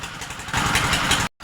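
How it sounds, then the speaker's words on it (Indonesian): A brick moulding machine runs with a steady mechanical engine drone that grows louder partway through as it presses clay into bricks, then cuts off briefly before resuming. "Dan mesin pun langsung mencetak batu bata."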